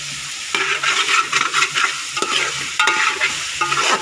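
Chopped tomatoes fry in a pan for pulao with a loud, close sizzle, while a spoon stirs and scrapes in irregular bursts, with no talking.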